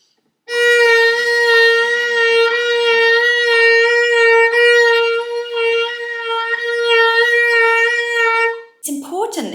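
A violin holds one sustained bowed note while vibrato rocks it in a steady triplet rhythm, the pitch pulsing evenly, loud and close, for several seconds before a brief slide and a short burst of other sound at the end.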